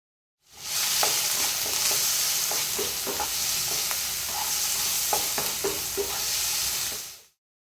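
Finely chopped onion with turmeric and salt sautés in a pan for chana masala, a loud, continuous sizzle with repeated scraping stirs and light clicks of a spoon against the pan, up close.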